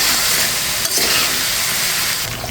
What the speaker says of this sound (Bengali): এখন আবার একটু নেড়ে ছেড়ে দেখছি।